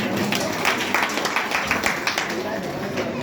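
Audience applause at a temple matha gathering on the final day of a Bhagavatam saptaham recitation, steady dense clapping from a crowd filling the moment, moderately loud with voices mixed in.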